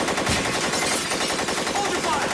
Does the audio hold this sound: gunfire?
yes